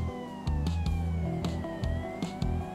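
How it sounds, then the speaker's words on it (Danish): Police emergency vehicle siren tones in the LSPDFR video game, a loud, continuous electronic wail with steady sweeping tones and a rhythmic low pulsing underneath, with no talking. "det gør vi ved at få ændret vores udrykningstoner i udrykningen"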